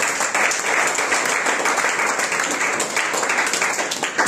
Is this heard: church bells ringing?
no